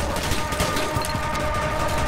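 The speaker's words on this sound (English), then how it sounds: "Stop shooting me!" Gunfire in Garry's Mod HL2RP comes as a continuous loud barrage of overlapping shots and echoes, with no clear gap between them.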